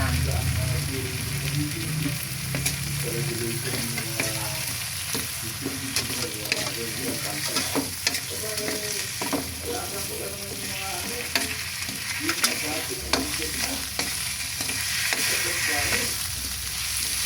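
Shrimp frying in butter and garlic in a pan, a steady close sizzle with scraping stirring strokes running throughout, and a faint voice underneath at times.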